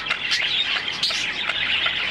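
A courting pair of pet birds, cock and hen, chirp and squawk in quick, close, overlapping calls with no talking.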